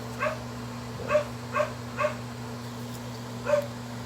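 A dog barks repeatedly nearby, five sharp barks in an uneven rhythm over a constant low electrical hum, with no talking.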